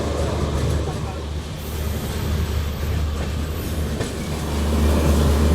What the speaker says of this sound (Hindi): अभी हम गुना जंक्शन के आउटर पे खड़े हैं और हमें ओवरटेक कर रही है बिना लाइन से आने वाली कोई हमसफ़र एक्सप्रेस